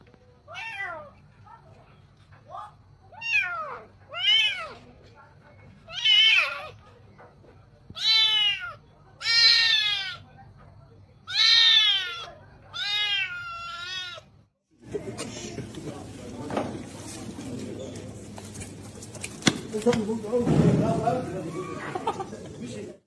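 A house cat meows repeatedly, about ten drawn-out, rising and falling calls in a loose rhythm, close and clear, before the scene switches to background noise with talking.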